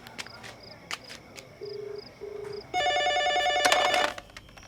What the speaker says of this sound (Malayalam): എടാ ഫോൺ അടിച്ച് കേട്ടില്ലേ?